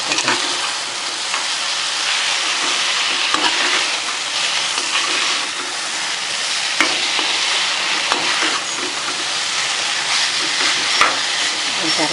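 Stuffed okra (lady's finger) frying in a pan that was covered, now opened and stirred, with loud continuous sizzling and repeated scraping and tapping of a spatula close by.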